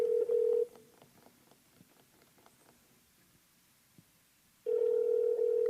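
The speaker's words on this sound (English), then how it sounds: "So my phone is calling" Mobile phone placing a call: a short loud dialing tone, then faint clicks and taps in near silence, followed by a steady loud ringback tone starting up again.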